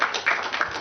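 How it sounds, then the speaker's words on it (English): A small audience of about five people claps briefly, with a few soft, scattered hand claps in a short, sparse burst. "I think we should clap"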